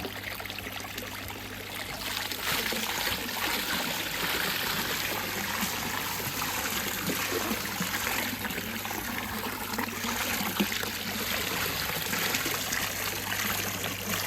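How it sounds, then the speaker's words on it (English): Bicarb solution poured over frozen patches underwater, a steady trickling, gushing stream of liquid running continuously at close range with no talk over it. "I'm going to add the bicarb and I'm going to pour it over the area"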